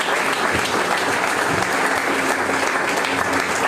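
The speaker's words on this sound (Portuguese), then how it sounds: "Aplauda o Senhor Jesus Cristo." A church congregation applauding, dense continuous clapping from many hands that fills the room evenly and loudly from start to finish with no break.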